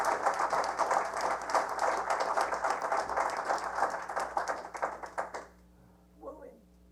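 Applause at a town board meeting: a crowd claps in a dense, even patter for about five seconds, then stops abruptly, leaving room hum and a brief voice at the end.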